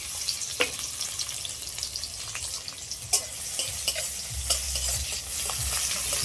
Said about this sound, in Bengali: এবার আমি দিয়ে দেবো পেঁয়াজ কুচি আর রসুন